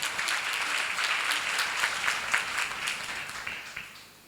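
A church congregation at a seminar breaks into loud, sustained applause, dense clapping from many hands that holds steady before tapering off near the end.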